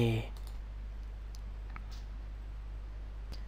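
A few faint, sparse computer mouse clicks while working in Adobe Captivate 8 software, heard over a low steady hum after a brief burst of speech at the very start.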